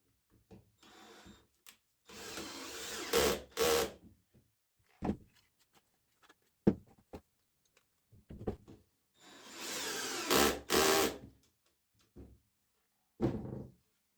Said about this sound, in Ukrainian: Спробуємо зараз закрутити.